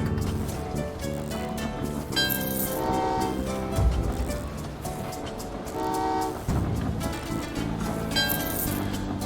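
Synthetic train sounds from the video game Train Valley 2 chug along steadily while short horn toots sound several times, mixed with faint game-like tones and no voices.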